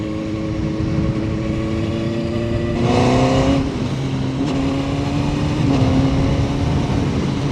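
A CF Moto 750SR-S inline-four motorcycle blips its engine on a downshift, the steady engine drone jumping in pitch in a sharp rev around the three-second mark, with further gear changes and rising engine tones close by and loud.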